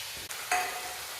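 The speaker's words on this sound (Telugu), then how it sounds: "బాగా వేయించుకోవాలి." Potato pieces frying in hot oil for a chicken and potato fry, heard as a steady, close hiss of sizzling with one brief stir partway through, and no voices.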